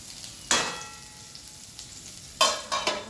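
Pointed gourd (potol) frying gently in a pan, a soft steady sizzle broken by a few louder bursts of crackle and stirring, with no talk.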